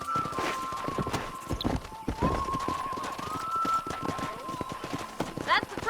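Horses moving in Red Dead Redemption, rapid hoof clip-clops running throughout beneath conversation between characters, with a brief whinny near the end.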